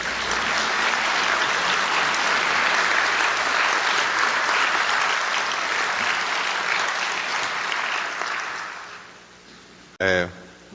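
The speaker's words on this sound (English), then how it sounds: "So she deserves another round of applause." Sustained audience applause at a university ceremony conferring an honorary doctorate, full and even for several seconds, then tapering off as a voice briefly speaks at the close.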